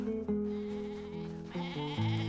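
Goats bleating in a cowboy ranch simulator game, a few wavering, nasal calls in quick succession, close and fairly clear over a quiet background, no speech.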